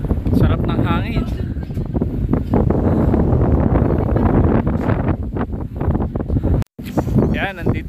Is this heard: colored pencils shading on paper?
no